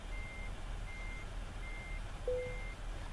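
A truck in Euro Truck Simulator 2 reverses to hitch a trailer, giving four evenly spaced high electronic beeps over a low steady engine rumble, with a short squeal near the end.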